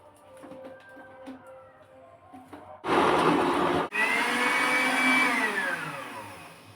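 A kitchen blender whirs loudly through about a kilo of frozen mango for ice cream, starting after a few small clicks and rattles, briefly pausing, then resuming with a pitch that slowly drops as the fruit breaks down.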